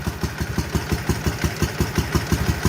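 Ural motorcycle engine idling after sitting unused for 11 years, carburetors not yet adjusted, a close, steady rhythmic chugging with regular low pulses and no talking.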